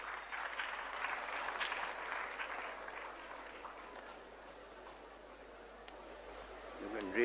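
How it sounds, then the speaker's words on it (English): Audience applause at an award ceremony greets the chief guest as he comes up to the podium. The applause is steady and fairly distant, then slowly thins over about seven seconds. "Please welcome him with a round of applause."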